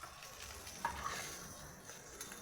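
Fish frying in oil in a kadai gives a steady, soft sizzle and crackle throughout, fairly faint and with no talk.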